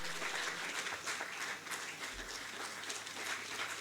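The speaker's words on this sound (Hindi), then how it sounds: "जोरदार तालियां आपकी भी" A hall audience claps at a felicitation ceremony for Asian Games medal winners. The applause is dense and continuous, heard at a distance and fairly faint, with a low hum underneath.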